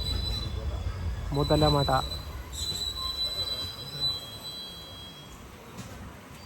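The Palakkad–Tiruchendur Express pulls into Muthalamada station with a thin, high squeal of wheels on rail and a low rumble underneath. Someone briefly speaks near the start.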